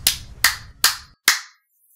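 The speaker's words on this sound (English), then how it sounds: "Round of applause, everybody." Four sharp, separate hand claps ring out close and loud at an even pace, each fading quickly before the next, with silence after the last.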